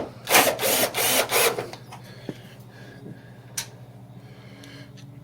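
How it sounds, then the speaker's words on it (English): Several close mechanical clicks and taps come from headlight mounting screws being driven back in during a 5x7 LED headlight install, following a louder burst of handling noise at the start. "We'll go ahead and put those screws back in."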